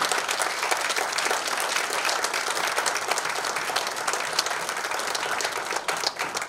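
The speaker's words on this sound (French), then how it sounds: "je vais vous demander de l'applaudir frénétiquement" An audience at an awards ceremony and business forum closing in Brussels applauds continuously, a dense, even wash of many hands clapping for several seconds at a moderate distance, with no speech over it.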